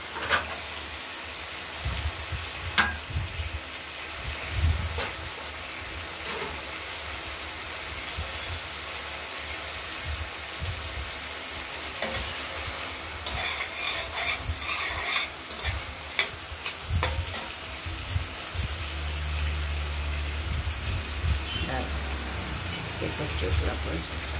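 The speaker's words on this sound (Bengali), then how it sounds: "মশলাটা কষানো হয়ে গেছে।" A spice paste sautés in a pan for a thin koi fish curry with potatoes, sizzling steadily while a utensil stirs and scrapes with sharp clacks, up close and loud throughout.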